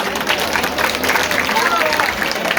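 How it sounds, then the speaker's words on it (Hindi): Loud, dense applause from an audience at an Ambedkar Jayanti community gathering in Jahangir Puri, sustained clapping with crowd murmur throughout. "हमारे जवाहर अंकल के लिए जोरदार तालियां हो जाए"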